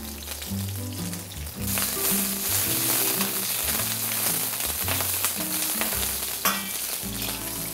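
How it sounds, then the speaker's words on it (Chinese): Shiitake mushrooms and scallion whites stir-fried in hot oil in a wok, a steady loud sizzle with scraping stirs throughout, alone with no talk. "我们把香菇丢进来煸香，然后葱白就可以进来了"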